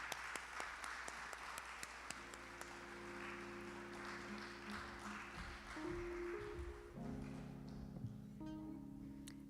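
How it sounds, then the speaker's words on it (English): Audience applause for National Junior Honor Society officers at a school induction program, scattered claps over a steady room hum, with sustained tonal music sounding beneath and growing toward the end. "Let's go ahead and give them a round of applause."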